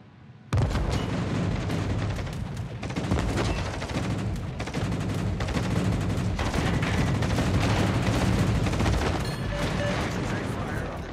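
Naval gunfire in World of Warships, a dense run of booming shots and rumbling blasts that starts abruptly and keeps up loudly throughout, with a voice talking underneath.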